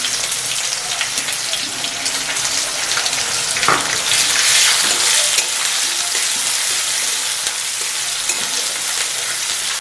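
Chopped onion sizzling loudly in oil in a pan with whole cumin, cardamom, cinnamon and cloves, stirred now and then, a steady dense crackle throughout with no talking.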